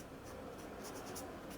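A pen writes out a math solution on paper for a square-courtyard perimeter problem, giving a steady, faint scratching close by with no speech.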